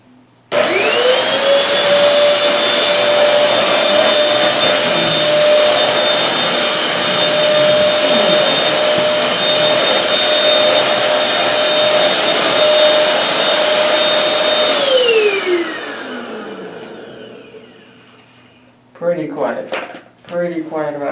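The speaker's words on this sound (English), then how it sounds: "So let's do a sound test. So this is the Bissell." A Bissell Featherweight Turbo vacuum cleaner spins up, runs with a steady loud whine for about fourteen seconds, then winds down, after which a person starts talking.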